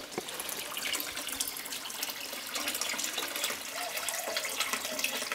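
Shower water runs steadily in a basic guesthouse bathroom in Myanmar, a fairly soft, continuous hiss and splash with no talking.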